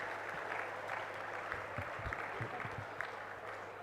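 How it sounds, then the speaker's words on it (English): Steady applause from an audience at an international conference, a continuous patter of many hands clapping with a few louder claps standing out. "A huge round of applause for our Honorable President Sir, Mr. Sanjay Bansal ji."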